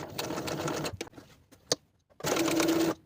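Sewing machine stitching a quilted jacket lapel facing, running in two loud, steady bursts of rapid needle chatter separated by a brief pause with a few clicks.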